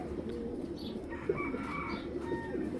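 Several pigeons coo close by, with low rolling calls overlapping and a few higher chirps scattered through the short stretch.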